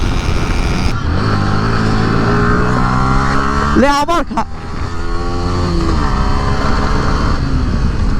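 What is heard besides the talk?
motorcycle riding fast on an empty highway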